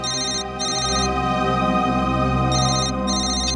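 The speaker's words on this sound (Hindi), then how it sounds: "मोबाइल कंपनी से फोन था।" A mobile phone rings in a TV crime drama scene, a loud electronic ringtone with repeating bursts of tones over a low sustained hum, playing alone without any talk.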